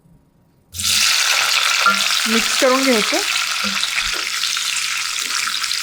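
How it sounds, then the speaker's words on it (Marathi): Diced capsicum and vegetables dropped into hot oil in a kadhai for kadhai paneer, a loud sizzle bursting in after a quiet moment and holding steady, with a voice briefly speaking over it. "त्यामध्ये त्या चौकोनी चिरून घेतलेल्या भाज्या घालूया"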